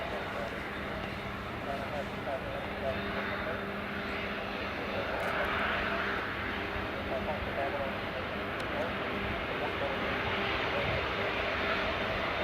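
An airliner about 10 years old, delivered in December 2014, rumbles steadily past at Edinburgh Airport, its engines a loud continuous drone under someone talking.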